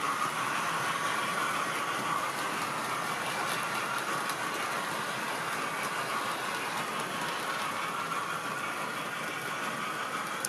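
A Hornby-Gresley model train runs around the track, giving a steady, continuous whirring rumble with faint rail clatter that stays level throughout and has no talking.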